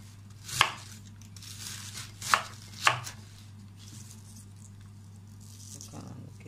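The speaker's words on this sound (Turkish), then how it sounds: "Bu şekilde doğrayacağım." A knife chops through white cabbage on a board in three sharp, separate cuts spaced a second or two apart, close and crisp over a steady low electrical hum.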